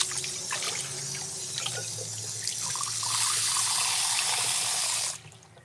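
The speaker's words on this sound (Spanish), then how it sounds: "Voy a llevar agua para la mano." Water pours steadily over hands in a kitchen, a continuous splashing trickle that swells louder midway and then stops abruptly near the end, with no one speaking.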